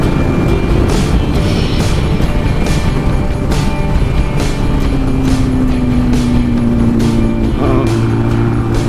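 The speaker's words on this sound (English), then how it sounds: "Let's just enjoy the run from here on a couple of old XS 1100s." A pair of old Yamaha XS 1100 motorcycles on a road run, engine drone and wind rush steady and loud throughout, with a rising engine tone partway through.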